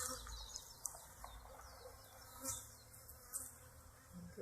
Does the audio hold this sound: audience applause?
no